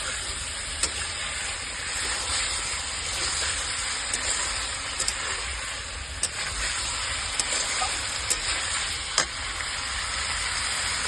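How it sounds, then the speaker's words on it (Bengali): Chicken pieces fry in a pan, with a steady, moderate sizzle and hiss running throughout, broken by a few faint clicks as the meat is stirred. "মাংসটা ওর সঙ্গে ভাজা হবে"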